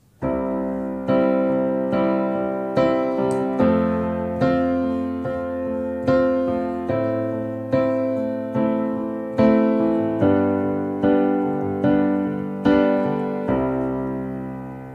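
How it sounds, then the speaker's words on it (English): Piano chords played steadily, struck roughly once per second in a sustained, rhythmic accompaniment pattern, clear and close with no voice. "I'm going to assume that you want to accompany yourself singing on the piano"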